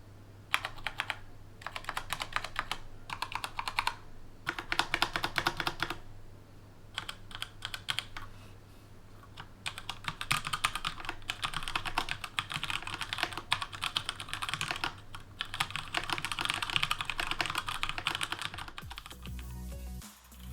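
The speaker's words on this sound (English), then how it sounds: "we'll do a quick sound test here so you can hear how those orange switches sound on the Pro Type" Rapid typing on a Razer Pro Type keyboard fitted with orange mechanical switches, heard as close, steady bursts of key clatter with brief pauses between runs and no talking.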